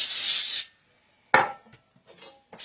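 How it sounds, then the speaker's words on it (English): Cooking spray hisses from a can onto two 8-inch cake pans, one loud sustained burst, followed by a pause and then clattering pan handling with another short spray at the end. "we'll go ahead and spray them really good"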